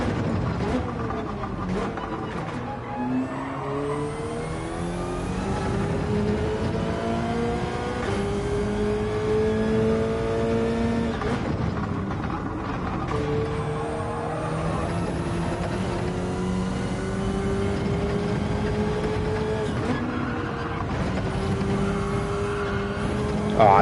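A Subaru BRZ Gr3 race car in the Gran Turismo video game at Road Atlanta. Its engine revs up and down through the gears over and over, with rising tones and short drops at each shift. The sound is steady and moderately loud throughout.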